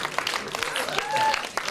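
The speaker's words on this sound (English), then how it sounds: "Why don't we just give ourselves a round of applause for being gorgeous and lucky?" Applause and cheering from a crowd, steady and fairly loud, with bits of voices mixed in over the short burst.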